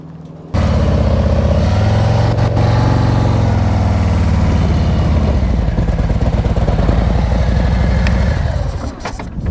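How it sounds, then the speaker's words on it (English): A motorcycle engine chugs loud and close through a slow-speed turn, with a low, uneven idle and light throttle that rumbles steadily for several seconds before easing off. "Now, when I was just making that turn, did you hear my engine go?"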